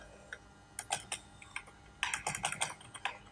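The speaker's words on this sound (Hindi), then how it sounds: "मैं लिखता हूँ मोहम्मद अहमद" Typing on a computer keyboard in short irregular bursts of crisp, close clicks with brief pauses between words, nobody talking.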